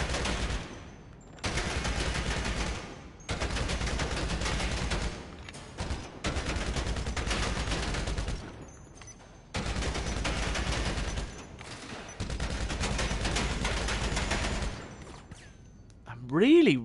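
Sustained automatic gunfire at the bunker shooting range in GTA Online, long loud bursts separated by short pauses, with a brief rising tone at the end.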